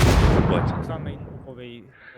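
A thrown grenade going off in the PUBG video game, one loud close blast at the start with a rumbling tail that fades over a couple of seconds, followed by faint game sounds.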